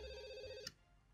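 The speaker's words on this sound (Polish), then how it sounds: "Telefon dzwoni." In The Sims 2, a telephone rings with a bright electronic trill lasting just over half a second, then a short click as it cuts off, leaving a quiet hum.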